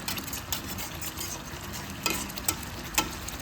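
Masala sizzles in hot oil in a pan for katla fish kalia, a soft steady frying hiss broken by a few scraping stirs of a spoon, close and fairly quiet, with no talking.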